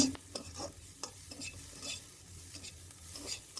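Vegetables fry lightly in a pan while a spatula stirs them. A soft sizzle runs under scattered scraping taps, close and fairly quiet, with no voices.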